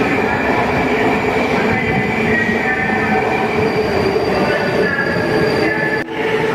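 A St. Petersburg subway train running loudly and steadily, with a constant rumble and a thin metallic whine from the wheels.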